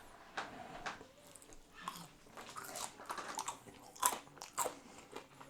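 Crunchy Birds Eye french fries being bitten and chewed close to the microphone, a quiet series of sharp crisp crunches and irregular chewing sounds spread across several seconds.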